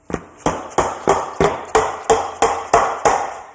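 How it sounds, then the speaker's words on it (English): A hammer taps a stuck part being removed from an old machine, about ten sharp metallic knocks in an even, quick rhythm, close and fairly loud with short ringing tails. "A little bit of a love tap with a hammer here."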